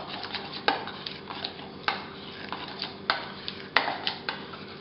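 A homemade burger sauce with ketchup being stirred in a bowl, a spoon clinking and scraping against the sides in a steady rhythm of sharp knocks, close by and fairly quiet.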